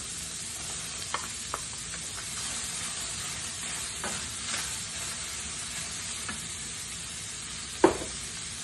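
Onions, leeks and celery sautéing in a pan give a steady close sizzle and frying hiss with occasional stirring scrapes and a sharper clatter near the end, no talking.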